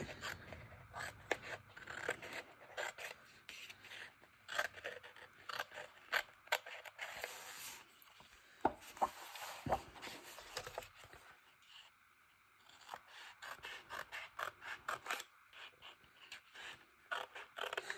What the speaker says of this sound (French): je découpe avec parcimonie